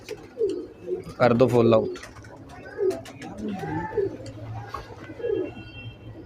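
Breeder pigeons coo in soft, repeated throaty phrases close by, mixed with a few chirps, while someone talks over them.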